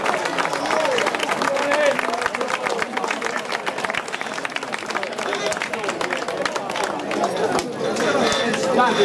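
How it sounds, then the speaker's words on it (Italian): Audience applause at a trophy award ceremony, steady crowd clapping lasting several seconds with chatter and voices underneath, fairly close and loud. "L'applauso del pubblico, grazie."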